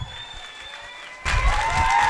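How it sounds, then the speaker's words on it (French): An audience at a dance school gala applauds a teen and adult dance group, with quiet murmuring giving way to a sudden burst of loud, sustained clapping from a sizable crowd in a hall. "On les applaudit bien fort."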